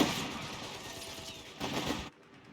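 Machine gun fire in the strategy game Company of Heroes 3, dense rattling bursts blending into battle noise, swelling briefly near the end before cutting off.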